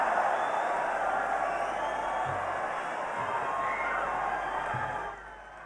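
Dense, steady applause from a large audience in a hall after a presidential candidacy declaration speech at SICC Sentul, West Java, with a few cheers mixed in, holding loud and even before easing off near the end.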